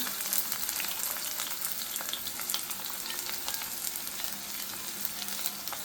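Shallots, onion and garlic sauté in hot oil with fenugreek seeds for a Travancore fish curry, giving a continuous close, crackling sizzle with steady spatter and occasional stirring, without any voices.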